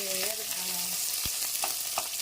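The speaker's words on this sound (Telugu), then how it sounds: "ఉల్లగడ్డతో పాటు అది కూడా ఫ్రై అవుతుంది, ఆలుతో పాటు" Diced potatoes and onions frying in a pan with green chillies for a potato fry, giving a constant bright sizzle. A few scraping stirs and utensil knocks break through it, and no one speaks.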